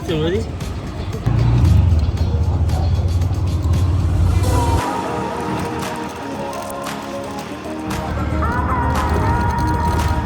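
An auto-rickshaw engine drones steadily during a ride, its rumble close and loud with shifts in pitch as it moves, while voices carry over the motor.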